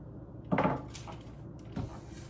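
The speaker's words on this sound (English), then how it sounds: "you're going to throw your baking sheet into the oven" A baking sheet of chocolate chip cookie dough slides into a preheated oven, giving a quiet metallic clunk followed by a softer knock a moment later in a calm kitchen.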